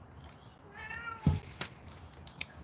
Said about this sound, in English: Here goes the cat.